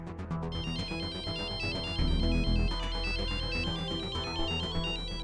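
A loud electronic ringtone melody plays in repeating bright tones over a steady backing beat, close and continuous with no voices.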